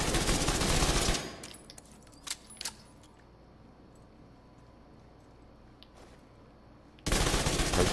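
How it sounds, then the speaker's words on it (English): Burst fire from a weapon in The Division 2 during body shots, a few sharp cracks clustered early then quieter pops, framed by loud dense noise at start and end. "Shots."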